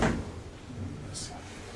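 A manual door on a KONE Starlift elevator at the V&D store in Sittard thuds open or shut with a short, close knock at the start, followed by voices talking in the lift.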